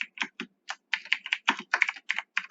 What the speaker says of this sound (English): we're going to type in the total